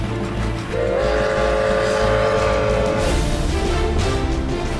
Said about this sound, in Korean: 요란한 소리를 내며 칙칙폭포 기차가 달립니다.